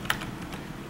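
Keys tapped on a computer keyboard, including the tab key, a few soft close clicks with one sharper strike near the start, otherwise quiet.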